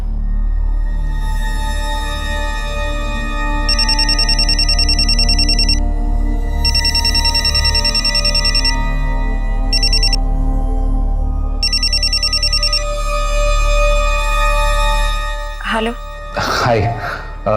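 A telephone rings repeatedly in bursts with short pauses between rings, loud and close, before speech-like sounds break in near the end.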